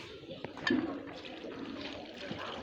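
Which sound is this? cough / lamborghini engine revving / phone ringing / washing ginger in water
washing ginger in water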